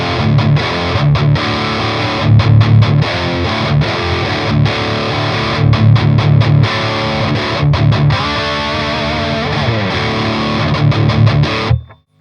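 Electric guitar through a Friedman BE-100 Deluxe amp playing a fat, heavily distorted rhythm part, loud chugging chords with rhythmic stops, ending on a ringing chord cut abruptly to silence.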